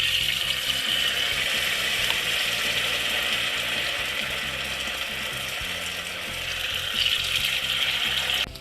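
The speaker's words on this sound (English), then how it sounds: "let's try and fry one piece and see. Make sure the oil is hot." Rice flour batter frying in a pot of hot oil gives a steady, close sizzle that holds evenly from start to finish, with no talking over it.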